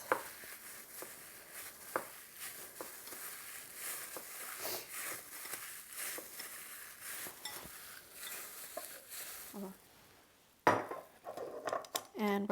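Seasoned ground beef burger mix is stirred quickly in a bowl with pepper and garlic powder, a rapid series of soft scraping and tapping utensil sounds, then a short pause and a louder clatter.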